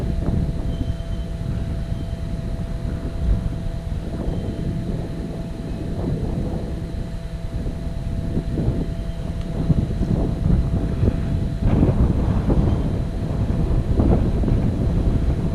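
Wind gusts buffet the microphone beside a river, a rough, rumbling roar that swells and fades in loud irregular bursts with no talk.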